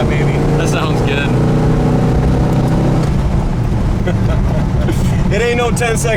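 A 1970 Dodge Charger accelerating hard after a transmission kick-down on the road, engine roar climbing in revs with steady loud rumble underneath and a gear change partway, with someone talking over it.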